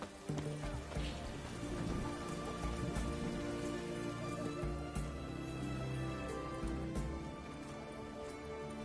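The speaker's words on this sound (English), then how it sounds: "It's raining, of course it's going to be damp." Steady rain in The Witcher 3 video game pattering over a layered background of hooves and ambient tones, continuous and moderately loud throughout.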